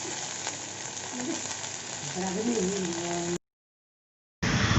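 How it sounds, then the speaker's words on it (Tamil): Steady close sizzling of vallarai greens frying in sesame oil in a pan, with brief voices over it, then a short silence before the sizzle resumes. "கொஞ்சமாக நல்லெண்ணெய் விட்டு வதக்கிக்கணும்"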